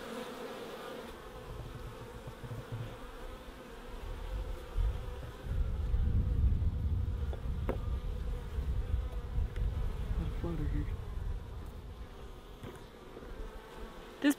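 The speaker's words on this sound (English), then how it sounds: "Look at all the bees in there." Dense, low buzzing of many honeybees in a hive being fed sugar syrup in fall, close and continuous, swelling louder midway with occasional faint clicks.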